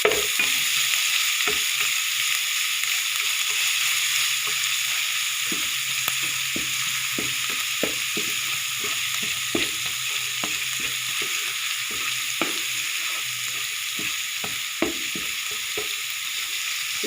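Ginger garlic paste sautéing in hot oil gives a steady, bright sizzle and hiss throughout, with scattered clicks from stirring, close up and with no voices.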